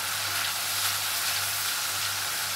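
Potato chips frying in hot oil in a pan for a curry pakora dish, a steady, dense sizzle that holds evenly throughout with no voices.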